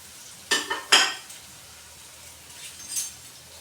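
Onions and curry leaves frying in a pan for Kerala-style beef curry, two sharp bursts of sizzling and stirring early on, then a quieter hiss with a faint later stir, close by and without speech.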